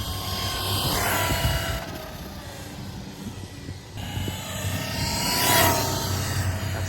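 An HPI Savage XL Flux 1/8 scale RC truck running at full throttle on a 4S battery, a high whining electric motor rising and falling as it speeds past, with wind and tire noise outdoors.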